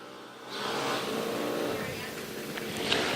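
Drag race cars launch down the track at a team finals money race, a rising roar of engines swelling and then fading into the distance.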